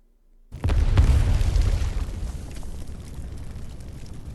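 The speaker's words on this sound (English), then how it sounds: "A loud explosion rings out high up above, and its massive shockwave shoved Jessica to the ground." After a moment of silence, a loud explosion booms high overhead, its deep blast swelling into a heavy rumbling roar that slowly fades.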